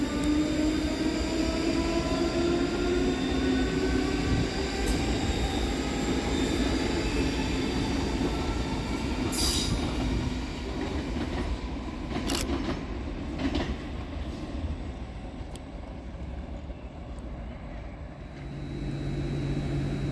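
Scotrail class 334 electric trains at Edinburgh Haymarket station, a continuous rumble of rolling wheels and motors with faint squeals and clicks over rail joints, loud and close throughout, with no voices.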